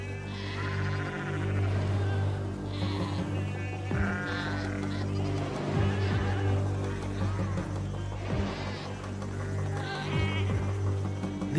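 A flock of sheep bleating repeatedly while wolves harass them, many overlapping calls near and far over a steady low background hum.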